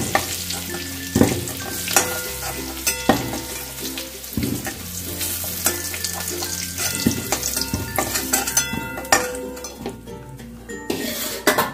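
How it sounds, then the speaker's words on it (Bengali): Potatoes frying in a pan for a prawn, potato and cauliflower curry, with a steady sizzle broken by repeated metallic scrapes and clinks of a spatula stirring against the pan, close and fairly loud throughout. "দেখো আলুগুলো খুব ভালো করে ভাজা হয়ে গেছে"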